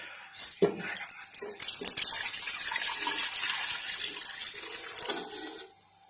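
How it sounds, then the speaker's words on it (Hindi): Chili-infused water pours and splashes steadily into a cooking pot for several seconds, close and fairly quiet, with a few clinks at the start. "और हम ये पानी डाल देंगे"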